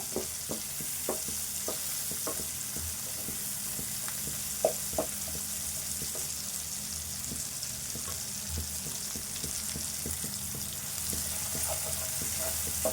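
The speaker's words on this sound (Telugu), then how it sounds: "వేగదాకా ఈ టమాటో కొంచెం మెత్తగా కావాలి" Tomato frying in a pan with onion: a steady close sizzle with frequent small pops and ticks of a stirring utensil throughout.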